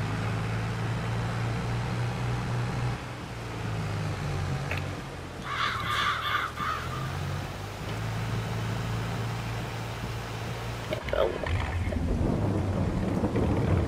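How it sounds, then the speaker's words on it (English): Thunderstorm with rain in the farming game Farming Simulator 22: steady rain hiss, a rolling thunder rumble and crows cawing in the middle, with no talking. "Well, that's the thunderstorm."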